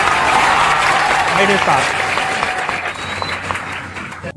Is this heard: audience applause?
yes